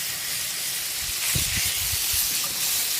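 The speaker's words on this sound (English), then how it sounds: "We're going to start with 1 pound of pork bacon chopped up." Chopped pork bacon sizzles in a 10-inch Dutch oven on a Camp Chef stove, a steady loud hiss with a few low pops and sputters, close up.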